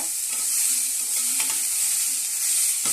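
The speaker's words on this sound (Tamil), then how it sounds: "எண்ணெய் ஊற்றி பட்டை, லவங்கம், சோம்பு போட்டாச்சு, பிரிஞ்சி இலை போட்டாச்சு, பச்சை மிளகா, ஸ்ப்ரிங் ஆனியன் போட்டிருக்கேன்" Cinnamon, cloves, fennel, bay leaf, green chilli and spring onion fry in hot oil for samba rava porridge, giving a continuous bright close sizzle with a few faint stirring taps.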